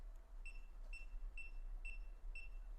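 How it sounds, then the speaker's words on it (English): A Timemore coffee scale emits five short, evenly spaced electronic beeps, thin and high-pitched over a quiet low hum, close but faint. "is, first of all, the beep sound."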